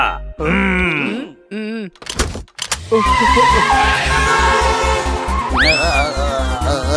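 A car is driven hard: after a few tonal calls, a loud, steady engine drone with rhythmic thumping pulses takes over, and rising squeal-like tones suggest skidding tyres near the end.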